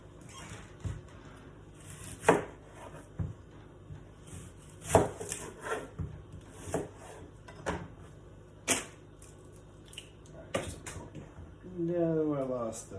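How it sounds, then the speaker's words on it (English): A knife chopping onions on a cutting board, with scattered sharp taps at an irregular pace, fairly quiet and mixed with a person talking throughout. "So first I'm going to start out cutting my onions."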